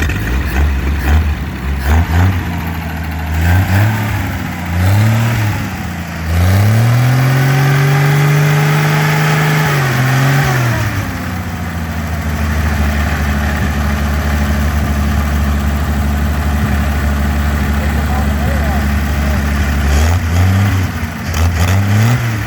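A small engine running on weed eater gas with its fan blades spinning, a loud steady idle broken by several brief revs and one long sustained run-up near the start, then settling back to a constant drone.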